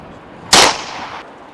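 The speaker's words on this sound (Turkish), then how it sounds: "Öfkeli koca yanındaki torbadan tabancayı çıkarıp eşine doğrultup tetiğe bastı" A single sharp, loud pistol gunshot cracks out, followed by a brief fading echo, with quiet background before it.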